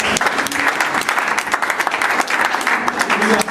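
An audience at a church convention applauds in a dense, loud, steady round of clapping with crowd noise and voices mixed in.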